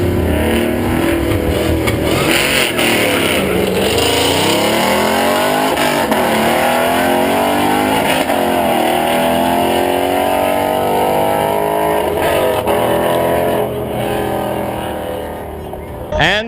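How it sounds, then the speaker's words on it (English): Drag race cars, including an orange Mustang, roar down a no-prep strip in a grudge race, engines screaming loud and close as they accelerate hard, pitch climbing through gear changes before fading away at the end. "We got another grudge race here. The orange Mustang is back for another round."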